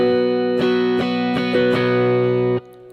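A guitar is strummed in a steady rhythm, each stroke at the same loudness, ringing chords cut off abruptly at the end.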